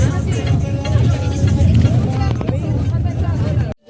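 A bus rolling along the road carrying a group of classmates on a picnic outing, its steady low engine rumble running throughout under a continuous babble of passengers talking.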